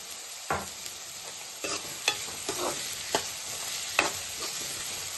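Onions with a spoonful of salt are stirred in a frying pan for a prawn and chana dal curry, giving a soft sizzle with several distinct spoon scrapes at irregular intervals, close and fairly quiet, with no talking.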